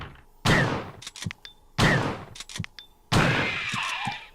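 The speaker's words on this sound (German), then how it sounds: "Dann knall ich jetzt einfach ab." Gunfire in the PS1 game Resident Evil: three sharp, loud shots spaced about 1.3 seconds apart, each with a booming attack, short echoing decay and mechanical clicks between, no speech.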